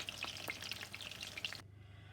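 Aubergine slices sizzle and fry steadily in a hot pan, a continuous bright crackle with scattered pops that cuts off abruptly near the end, leaving only a low hum.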